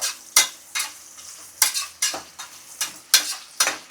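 Onions frying in a pan for tomato biryani, a steady sizzle punctuated by regular scraping stirs of a spoon roughly every half second, close and fairly loud with no talk.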